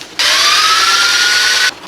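A power drill bores a hole for a propane tube fitting on a homemade fire tornado gun, one steady, loud, high whine lasting about a second and a half, with no talk over it.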